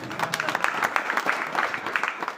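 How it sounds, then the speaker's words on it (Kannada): Audience clapping at a devotional sermon gathering, a dense, steady patter of many hands sustained throughout, moderately close and without a break. "ಪರವಾಗಿಲ್ಲ ಚಪ್ಪಾಳೆ ಹೊಡಿ ನಾವು"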